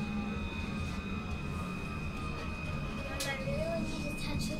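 Interior rumble of a Melbourne tram running through the city in autumn, a steady low drone with a faint high whine and occasional squeals, continuous and moderately loud throughout.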